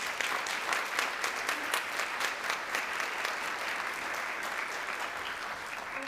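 Sustained audience applause at an evening community forum for a school district, many hands clapping steadily at a moderate level for the whole stretch, with no talk over it.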